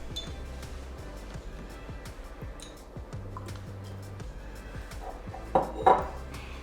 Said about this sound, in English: And we'll just mix those in with our bowl.